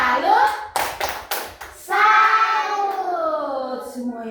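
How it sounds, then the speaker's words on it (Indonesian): Children clapping hands in applause in a classroom, with a few scattered bursts of claps followed by a sustained chorus of young voices chanting together. "tepuk tangan untuk salah satu"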